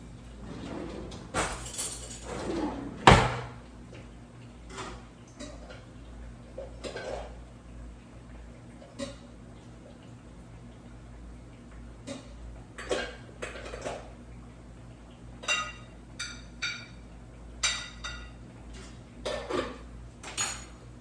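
Dishes and utensils clatter while rice is plated, with scattered sharp clinks and scrapes of spoon on plate coming in irregular bursts, close and fairly loud against a quiet background.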